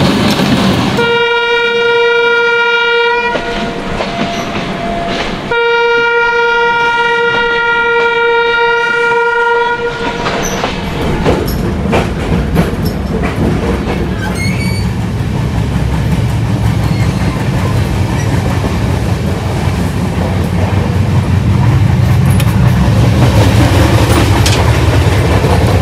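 The Maitree Express from Dhaka to Kolkata sounds two long, loud horn blasts in a row, then settles into a steady, loud rumble and rattle of carriages running over the track, with no talking.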